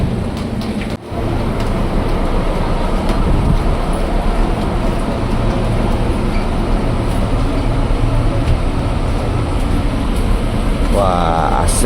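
A nearly empty KRL commuter train bound for Cikarang station rolls along at midday, a steady loud rumble and rattle filling the whole stretch with only a brief dip near the start.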